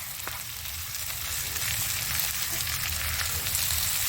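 Onions frying in oil for a samosa filling give a steady, close hiss of sizzling with faint stirring, no speech.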